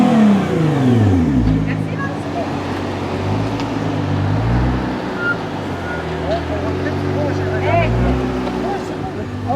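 A 550-horsepower combustion car engine revs repeatedly, its deep rising and falling pitch sweeping through several throttle blips, loud and close, with faint voices underneath.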